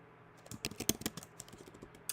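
Fingers tap steadily on a computer keyboard close by, a quick run of about a dozen sharp key clicks with uneven spacing in a quiet room, with no talking.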